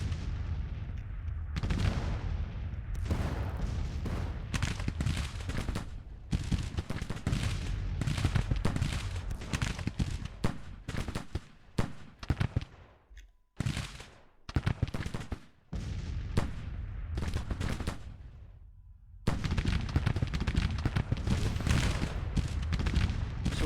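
Union artillery and massed gunfire boom across a Civil War battlefield in the strategy game Grand Tactician, with dense, continuous volleys and cannon blasts, a brief near-silent lull around the middle before the firing resumes at full intensity.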